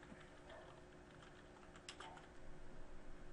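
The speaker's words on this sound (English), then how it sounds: "Let me type the next statement." Typing on a computer keyboard during Java programming, a quiet steady patter of close key clicks that runs throughout and gets slightly busier toward the end, with no talking.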